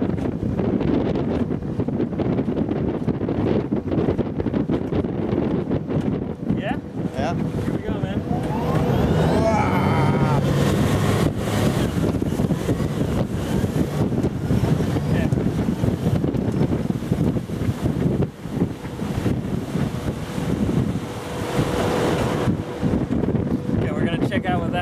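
Electric speedboat running fast across open water, a continuous rushing roar of hull, spray and heavy wind buffeting the microphone, with brief voices mixed in.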